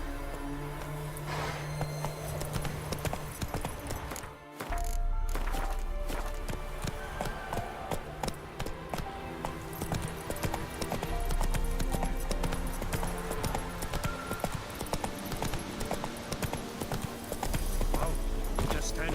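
Rhythmic clip-clop of horse hooves in The Witcher 3 Wild Hunt, steady trotting beats under in-game music and character voices.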